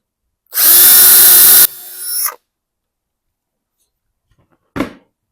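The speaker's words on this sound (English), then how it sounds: "you just drill from the top of the board, all 3 of them like this." A power drill bores a dowel hole into a wood drawer board through a Milescraft JointPro doweling jig. One loud burst lasts about a second, then a quieter winding-down whir follows, and a brief clunk comes after a pause.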